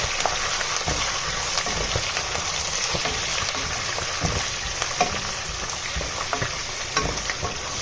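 Curry leaves and other tempering spices fry in hot oil for tomato pickle, producing a dense, continuous crackling sizzle with sharp pops, close and steady throughout.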